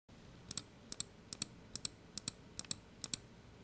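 Glorious Model I gaming mouse buttons clicking in quick double taps, eight crisp pairs spaced evenly, close and fairly quiet with no talking.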